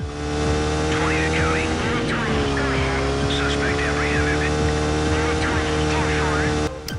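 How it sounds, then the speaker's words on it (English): Racing car engines from the video game Need for Speed III: Hot Pursuit, a steady, thin, hairdryer-like whine with sustained tones and shifting higher warbles, police radio chatter mixed in, loud throughout until an abrupt cut at the end. "The engine sounds are okay, a little hairdryer-esque, but that was all racing games back then."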